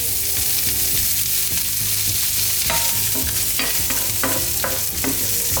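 Chorizo fries in olive oil in a pan over medium-high heat, a steady loud sizzle broken by sharp scraping clicks of stirring, with a low hum underneath and no voices.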